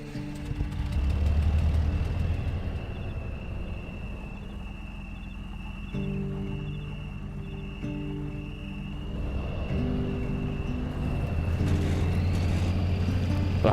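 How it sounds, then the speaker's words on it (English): A truck engine idles in the video game Mudrunner with a steady low rumble, shifting pitch midway as the motor settles, then swelling slightly near the end. "I forgot how good these trucks sound."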